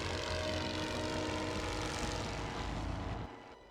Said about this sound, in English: We can send a bomber in to deal with these mortars.